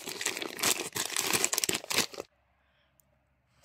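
Plastic bag of dried chicken manure fertilizer being torn open, two seconds of loud crinkling and rustling, then near silence.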